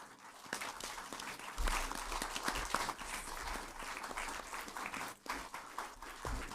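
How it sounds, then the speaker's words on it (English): Audience clapping in a hall at a long-life ceremony as volunteers are introduced, a sustained ragged round of applause from many hands, with a low rumble and a faint voice underneath. "to show our appreciation, we should clap louder"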